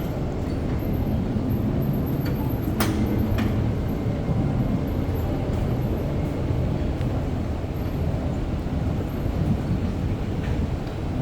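An REM light rail train rides between stations out of Brossard Station on the final run of the night, a steady low rumble and rolling hum inside the car with occasional faint squeals and clicks.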